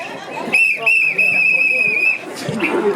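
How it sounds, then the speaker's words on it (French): A whistle blown at a civil wedding, one long steady shrill blast held for about a second and a half after a brief opening toot, close and loud, with voices murmuring around it. "Avec le sifflet là, c'est une urgence."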